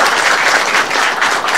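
Dense audience applause for a candidate at a small book concert event, loud and continuous throughout the short stretch with no talking.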